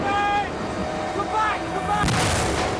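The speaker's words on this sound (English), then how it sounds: "In the confusion, they still carry on forward towards the mortar fire." Mortar fire in a jungle combat exercise with British SAS troops, heavy booming blasts, one loud crack standing out near the end, mixed with distant rumbling and shouted voices.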